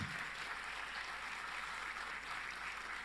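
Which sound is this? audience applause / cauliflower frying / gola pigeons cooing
audience applause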